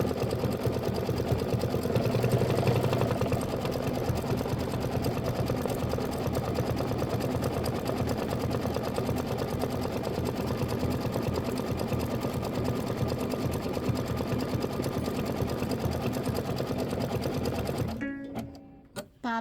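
Embroidery machine stitching a watermelon quilt block, a fast steady mechanical chatter of rapid needle strokes running continuously, then stopping abruptly near the end with a few clicks.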